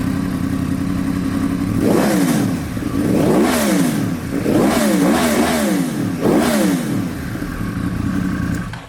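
A Yamaha R1 cross-plane sport motorcycle engine revs repeatedly, rising sharply and falling back in several loud throttle blips over a rough, throbbing idle.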